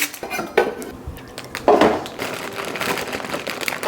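Green beans with onion rattle and clatter in a metal air fryer basket as it is shaken, a few loud bursts of tumbling knocks at close range with no talking.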